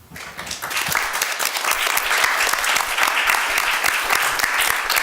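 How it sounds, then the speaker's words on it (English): An audience at an academic conference on Roma identity gives a panel a round of applause, loud, close, crisp clapping that swells quickly and stays dense and sustained for several seconds. "join me in one more round of applause to thank the panel"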